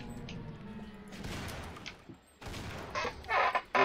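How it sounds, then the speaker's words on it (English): Revolver gunshots in the co-op shooter Sven Co-op, a Half-Life mod, ring out as sharp broadband bursts amid dense game noise, with several loud reports clustered toward the end. "I shot off the revolver"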